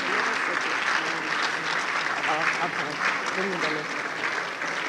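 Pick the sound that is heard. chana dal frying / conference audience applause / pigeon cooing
conference audience applause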